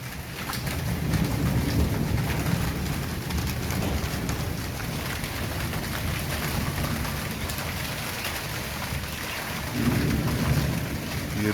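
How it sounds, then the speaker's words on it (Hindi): Heavy rain pours steadily in Rawalpindi, Pakistan, a loud continuous hiss and patter of drops on surfaces that stays even throughout, with a slight surge near the end and no one speaking. "ये देखिए सही खुल के बारिश हो रही है।"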